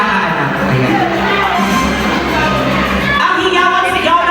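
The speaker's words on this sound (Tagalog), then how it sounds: "Ang hiyawan sigaw ng kabataan ng kapitanan" A crowd of young people at a pageant cheering and shouting in a continuous loud roar, a dense wash of voices with no breaks.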